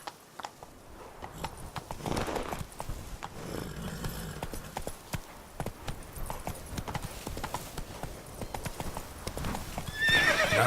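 Roach, the horse in The Witcher 3: Blood and Wine, gallops with rapid, rhythmic clip-clop hoofbeats that carry on throughout, and a whinny breaks through now and then.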